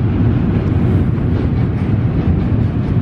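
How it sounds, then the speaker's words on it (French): A long train rolls by with a loud, steady low rumble that holds evenly throughout, heavy and close without breaks or voices. "Encore un train qui passe."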